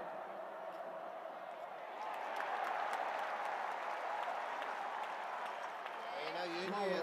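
A football stadium crowd claps during a college game, a broad steady wash of applause that swells after two seconds and holds, distant and diffuse, with faint voices mixed in.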